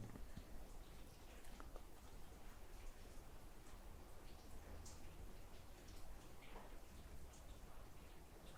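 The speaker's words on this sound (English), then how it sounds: "Thanks to the rain and the wind, there's just a bit too much contamination." Steady rain patters continuously, with scattered drips and ticks on nearby surfaces, fairly faint and even throughout.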